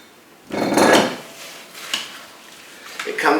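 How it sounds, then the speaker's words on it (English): A utensil stirs a mixture in a bowl, giving a short burst of scraping clatter followed by lighter clinks and taps, close and with no voices. "And then we're going to totally stir it together."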